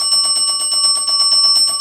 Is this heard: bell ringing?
yes